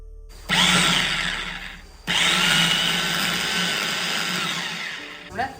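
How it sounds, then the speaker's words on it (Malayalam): An electric chopper finely mincing onions for a prawn milk curry: two loud, close bursts of whirring motor noise, the first short and the second longer, separated by a brief pause. "സവാള കുഞ്ഞു കുഞ്ഞായിട്ട് അരിയണം അപ്പോൾ അതിന് വേണ്ടി ചോപ്പർ തന്നെയാണ് നല്ലത്"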